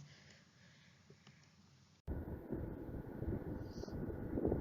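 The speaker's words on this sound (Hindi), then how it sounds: "This is actually a dust storm. देखिए धूल भरी आंधी चल रही है" A dust storm blows in a steady, roaring gust of wind with heavy rumbling buffeting, starting abruptly after a quiet, hissy stretch and staying loud and continuous to the end.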